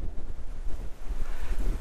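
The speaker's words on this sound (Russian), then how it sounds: "Немножко все омрачает ветер." Wind gusts buffet the microphone on a Santorini clifftop at Imerovigli in spring, a steady rumbling roar with surging low-end bursts and no voices.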